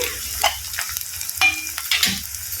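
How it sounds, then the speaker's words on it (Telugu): Onions cook in a pan for a tomato prawn curry, giving faint, intermittent sizzling with a few soft scrapes of stirring over about three seconds. "ఆనియన్స్ మగ్గుతున్నాయండి"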